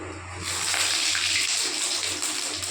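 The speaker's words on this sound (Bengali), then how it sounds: "তেল গরম হয়ে গেছে, আমি এখন দিয়ে দেবো জিরা বেশ কিছুটা" Cumin seeds hit hot oil in a pan and erupt into a loud, dense, rushing sizzle that holds steady for a few seconds, close and alone.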